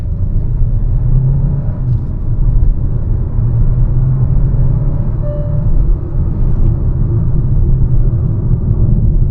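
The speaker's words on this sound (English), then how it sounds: "Maybe we can check the acceleration in sport mode here" Kia Seltos GTX with a 1.5L turbo engine accelerating hard in sport mode, a steady low engine drone and road rumble heard from inside the cabin, continuous and fairly loud.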